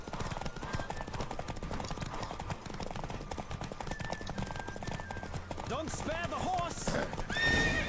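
Rapid galloping hoofbeats drive on continuously in The Witcher 3, with a horse whinnying near the end over a busy layer of game music and effects.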